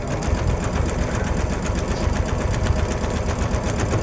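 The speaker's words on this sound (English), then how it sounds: "Somebody's sewing machine overrode you." A sewing machine runs steadily and close by, a continuous fast mechanical whir with rapid rhythmic ticking that holds at a constant level throughout, with no talk over it.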